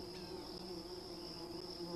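Bees drone at the entrance of a hive in a large tree: a steady, close, continuous buzz with a constant hum that never breaks, and no voices.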